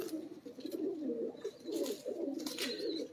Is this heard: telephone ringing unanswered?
no